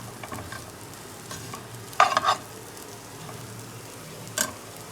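Chana dal dhokla pieces are stirred in a frying pan over a steady low sizzle, with a couple of distinct scraping strokes from the spoon against the pan.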